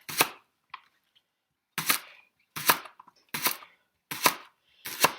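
A knife slices leeks into thin rounds on a cutting board, five or six sharp, separate chops at an uneven pace, close and fairly loud with quiet gaps between them.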